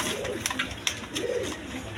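Healthy, lively pigeons coo in two low rolling phrases at a seller's loft, with sharp bursts of chirping and clatter over steady background noise.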